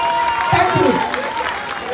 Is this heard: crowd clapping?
yes